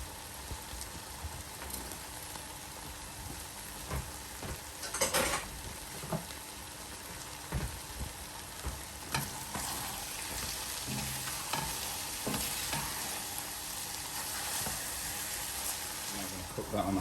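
Fried onion cooks on a high flame in a chicken biryani pot with a steady close sizzle, and occasional clinks and scrapes of a spoon against the pot.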